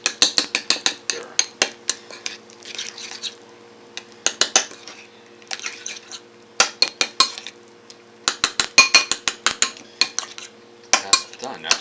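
A utensil stirs pork lettuce wrap filling seasoned with cumin in a bowl, making bright, repeated clinks and scrapes in irregular bursts with short pauses between, close and fairly loud.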